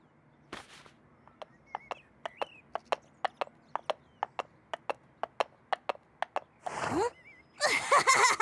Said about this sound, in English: All I'm seeing is a donkey with a ribbon.